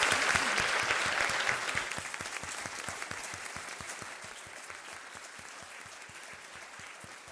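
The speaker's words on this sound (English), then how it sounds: "I want to give everybody a huge round of applause" A symposium audience applauds a panel, the clapping starting dense and full, then slowly thinning into a sparser, quieter patter of separate claps.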